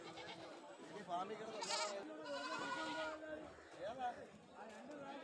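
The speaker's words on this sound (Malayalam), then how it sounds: "ഇതെല്ലാം കച്ചവടം കഴിഞ്ഞ ആടുകളാണ് ഈ ഭാഗത്ത് നിൽക്കുന്നത്." Goats that have been sold stand at a busy livestock market, bleating several times against a constant background of people talking and chatter.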